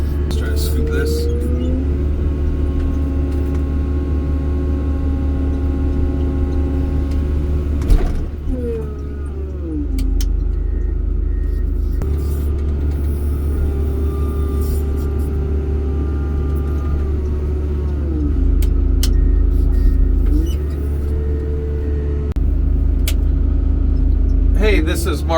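A John Deere tractor works close by, its engine droning steadily while the hydraulics whine and shift pitch as the bucket scoops dirt, with clunks of the loader and someone talking over it.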